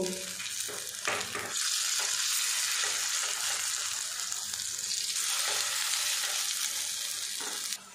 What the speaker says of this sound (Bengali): এদিকে দেখুন কুমড়োর বড়াগুলো কিন্তু আমার ভাজা হয়ে গেছে।